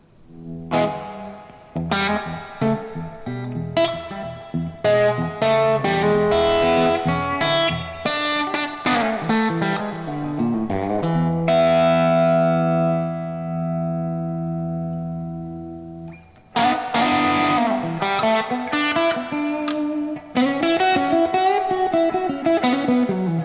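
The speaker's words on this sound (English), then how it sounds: "Pretty cool sounding spring reverb to me." An electric guitar is played through a spring reverb effect, with plucked notes and strummed chords sustaining into a long, washy tail before the playing resumes, loud and alone without talk.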